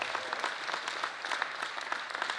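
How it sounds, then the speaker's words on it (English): Applause from a Rotary club gathering honoring Asher, offensive lineman of the week, a steady dense patter of many hands clapping throughout, moderately loud with no talk over it. "give him a round of applause"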